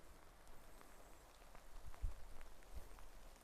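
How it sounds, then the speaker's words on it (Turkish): Rain falling in an overgrown garden in Denmark, a light steady patter of drops with a few closer, sharper drips landing nearby, heard alone without talk. "Yağmur yağsa da çalışmak gerekiyor burada."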